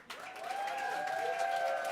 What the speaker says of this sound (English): There's their round of applause